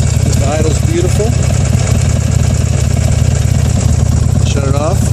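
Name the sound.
Buell Ulysses XB12X motorcycle engine idling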